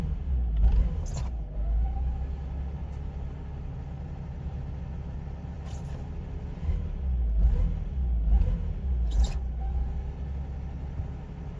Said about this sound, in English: When I give it a little bit of throttle though, it doesn't go past 15.